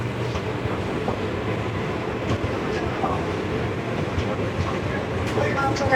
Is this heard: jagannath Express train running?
yes